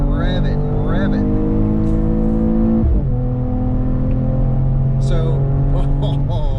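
A 2021 Mercedes E53 AMG Cabriolet's inline-six engine revs hard through the gears on hill roads, rising pitch climbing, a sharp shift, then pulling again, loud and close.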